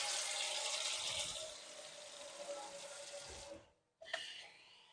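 A kitchen tap runs steadily in a sink during holiday baking, a close, continuous hiss and splash that cuts off abruptly and then briefly resumes.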